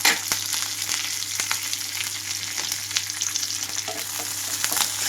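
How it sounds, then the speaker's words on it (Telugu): Hot oil sizzles steadily as tempering seeds and curry leaves crackle and pop in quick, irregular bursts, close and fairly loud, with no voices. "తాలింపు గింజలు అంతా చిటకటమనే వరకు వేయించుకోవాలి"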